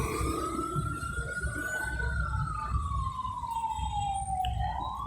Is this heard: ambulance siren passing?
yes